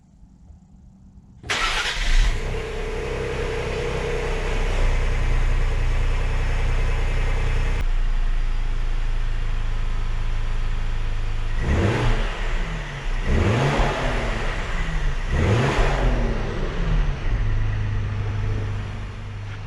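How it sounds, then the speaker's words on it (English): A 2020 Ford Explorer ST cold-starts with a sharp crank and catch, settling into a loud, steady fast idle before three distinct revs rise and fall, then a higher idle, close by and with no talking. "Let's get this cold start,"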